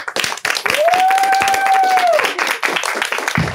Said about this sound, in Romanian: vă rog să-l întâmpinați cu aplauze